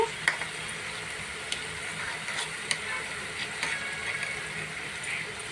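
Ginger garlic paste frying in a pan with onions, green chillies and curry leaves, a steady close sizzle with a few sharp crackles and pops throughout.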